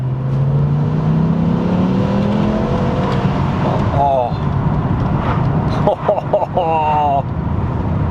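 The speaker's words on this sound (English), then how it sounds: "the sound that this car makes is quite literally heavenly" A BMW M6 with a V10 engine revs through a pull, its rising engine note climbing and shifting with quick gear changes, close and loud beneath someone talking over it.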